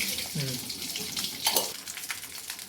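Mustard seeds crackle and sizzle in hot oil for a South Indian drumstick curry, a steady hiss broken by a brief voice near the start and a sharper pop midway.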